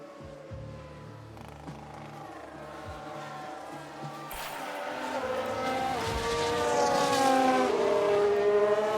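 An F1 race car from F1 Manager 22 spins out: a steady engine drone gives way to a rising, wavering whine of revs and sliding tires that swells louder toward the end.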